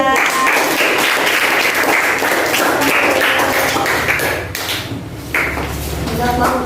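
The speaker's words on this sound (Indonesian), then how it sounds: "Tepuk tangan untuk kelompok Kamboja." Classroom applause for a student group, quick loud clapping from pupils close by, dipping briefly partway through before picking up again, with some murmured voices mixed in.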